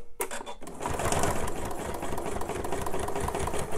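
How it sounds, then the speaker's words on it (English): A sewing machine stitches down the side seam of a purse being fitted to a purse frame, a steady close mechanical whir that runs continuously for several seconds after a brief start. "stitch down the side and then repeat."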